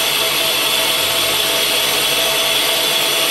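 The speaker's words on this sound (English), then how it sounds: "then we'll start to grind a four facet drill" Tool and cutter grinder powered up for grinding a four-facet drill, a loud, steady high-pitched whine and motor roar running continuously without speech.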